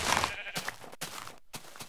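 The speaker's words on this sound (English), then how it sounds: "Ooh, there's a sheep." A sheep in Minecraft gives a few wavering bleats, clear and close over a faint game background, with short gaps between calls.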